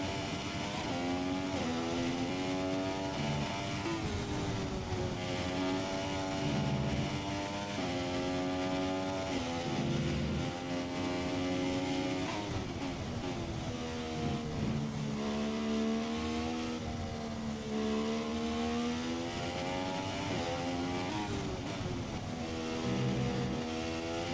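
A video game racing car lapping the Spa circuit, its engine whining up and down in pitch through repeated gear changes and braking, loud and continuous with no voices.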